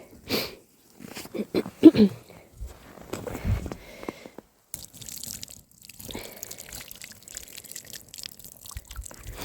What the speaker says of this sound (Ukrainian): Давай ще сюди буду на кран лити.